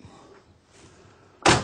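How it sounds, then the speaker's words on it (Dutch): A garage door is pushed shut at the end with a single loud, close slam after a quiet stretch of faint background noise. "Voilà, de deur van Noto is toe."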